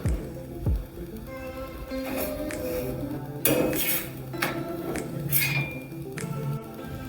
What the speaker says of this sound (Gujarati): હવે ઢેબરા ઉપર આપણે ઘી લગાવી લઈશું અને પલટાવી દઈશું